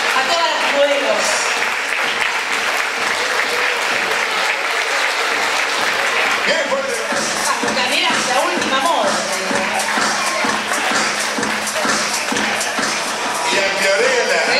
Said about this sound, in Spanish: Un aplauso muy fuerte a todas las modelos.